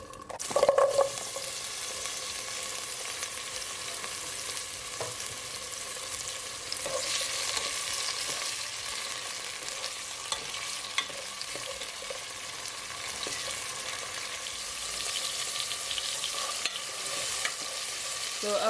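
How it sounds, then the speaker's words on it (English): Tomato and two carrots sauté in hot oil in a pot, giving a steady close sizzle and crackle with occasional stirring scrapes throughout, no voices. "I'm gonna add 1 tomato and 2 carrots to my pot and just allow it to saute for at least 1 minute or so"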